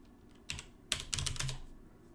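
Typing on a computer keyboard at a terminal: a few close, crisp key clicks, a single tap followed by a quick cluster of strokes, in an otherwise quiet room.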